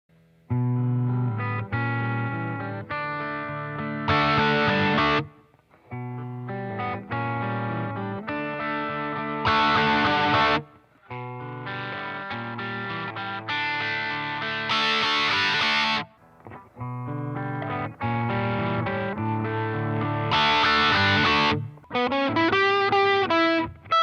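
Electric guitar through overdrive and distortion pedals plays repeated chord phrases in several takes separated by brief pauses, the tone gritty and overdriven, ending with a cleaner bright passage.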